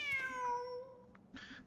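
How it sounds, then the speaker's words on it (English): A cat meows in Genshin Impact, one clear drawn-out meow, close and fairly loud, falling in pitch, with a brief rustle at the end. "It's Nefer's cat, we know that."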